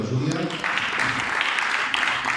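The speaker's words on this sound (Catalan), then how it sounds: "Un aplaudiment per la Júlia." Applause breaks out at an instrumental music recital as a young performer named Júlia is welcomed. It is a steady, dense clapping wash that holds for the whole stretch, with a voice briefly audible at the start.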